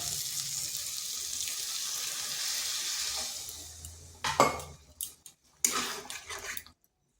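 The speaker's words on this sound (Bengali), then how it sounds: "এখানে দিয়ে দেব সামান্য একটু জল" Water poured into a frying onion and tomato mixture in a pan: a steady sizzle fades, then two bursts of hissing, spattering liquid follow, ending in silence.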